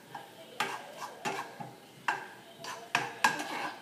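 Onions and peppers tossed in a pan for a veggie white omelette, giving a run of sharp clattering scrapes and knocks at irregular intervals over a faint sizzle, fairly close and moderately loud, with no talking.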